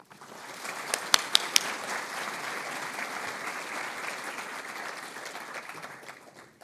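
Audience applause welcoming a keynote speaker at a talk on strategies to break the incarceration cycle, a steady wash of clapping from a crowd with a few sharp close claps near the start, fading out at the end.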